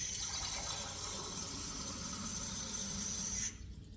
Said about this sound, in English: Now, we're gonna fill this with water.